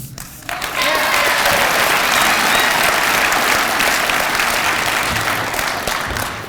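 A graduation gala audience breaks into loud, sustained applause that swells after a brief quieter start and carries on steadily, with a few voices mixed into the dense clapping.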